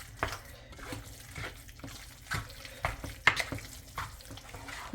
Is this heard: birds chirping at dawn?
no